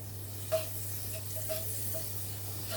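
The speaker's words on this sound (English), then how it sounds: "I'm going to go in with a couple of knobs of butter." Knobs of butter melting in a pan over low heat, a faint, soft sizzle with a low hum beneath and a few tiny pops, quiet and close.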